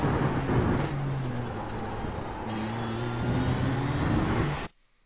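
A race car in iRacing at the Snetterton 300 circuit brakes hard and downshifts twice, its steady engine drone stepping down in pitch in distinct stages before the sound cuts off abruptly.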